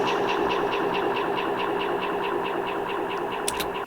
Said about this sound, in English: All I did was I got a vocal sample, pitched it down, and then added a delay to it.